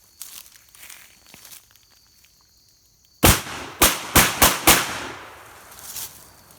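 An MKA 1919 shotgun fires buckshot in a quick string of five loud, sharp blasts, close by and alone, after a quiet stretch of faint rustling and handling.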